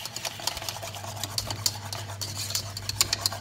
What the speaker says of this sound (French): On mélange, on mélange.